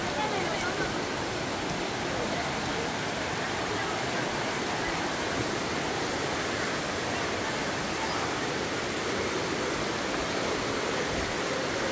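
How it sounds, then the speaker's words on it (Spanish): Flowing water rushes in a constant, broadband roar, steady and close throughout the whole stretch, with faint voices talking under it. "¡Está pasando agua!"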